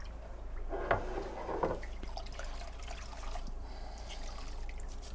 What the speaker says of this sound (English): then we dip our rag again, because we want to make sure we have plenty of solution on there, and then wring her out.